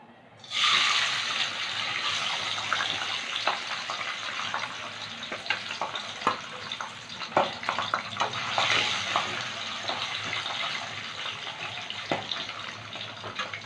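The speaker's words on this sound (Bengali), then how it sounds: "কড়াইতে সর্ষের তেল গরম করে নিয়েছি। প্রথমে মাছগুলো ভেজে নেব।" Pabda fish frying in hot mustard oil in a wok: a sudden burst of sizzling as the fish go in, then a sustained crackle dotted with sharp spattering pops, fairly close and without speech.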